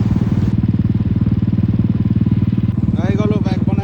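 Motorcycle engine idling steadily near the mic just after a handlebar replacement, a continuous low chugging throb throughout, with someone speaking over it in the last second.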